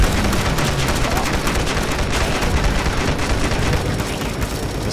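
Machine gun fire in the mobile zombie game Dead Ahead Zombie Warfare: a dense, continuous roar of rapid shots layered with explosive booms, steady and loud throughout with no pauses.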